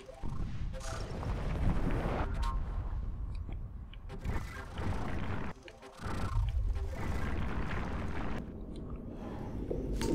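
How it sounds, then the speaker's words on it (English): A volcano erupting in the video game From Dust gives a continuous loud, dense roar with rumbling bursts that swell and dip over several seconds, no talking over it. "volcano continues to explode"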